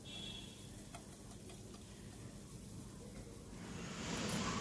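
Chopped onion, garlic and green chili frying in oil give a steady, close, low sizzle, swelling slightly toward the end, with faint ticks of stirring and no talk.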